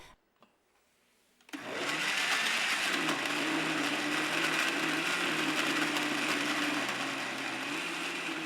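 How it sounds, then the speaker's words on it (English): A blender whirs steadily as it blends curry paste ingredients with about a quarter cup of water, starting abruptly after a brief quiet moment and running loud and continuous with a droning motor hum. "Now blend everything together until you have a well-mixed liquid paste."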